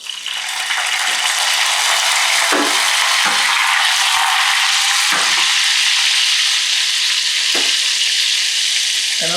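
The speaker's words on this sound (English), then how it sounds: "Let's toss in our herbs. Remember, basil and parsley? Oh yeah, fry them up a little." Basil, parsley and capers fry in a hot pan, a loud, continuous sizzle with a few soft scraping stirs and clicks of utensils against the pan, no voices.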